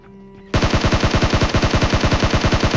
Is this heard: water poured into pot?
no